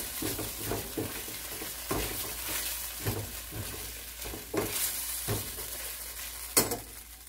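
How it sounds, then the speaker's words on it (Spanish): Ham frying in a pan for arroz con gandules, a steady sizzle with regular stirring scrapes recurring every second or so, close and moderately quiet. "Después voy a agregar lo que es el jamón. Que se fría un ratito."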